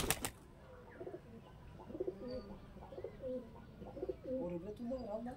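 Pigeons cooing softly in repeated low throaty phrases, close but quiet against a faint background hum, with no talking over them.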